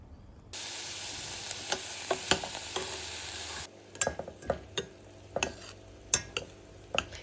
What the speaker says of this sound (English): I've just got my onions cooking with some of the butter we got from the markets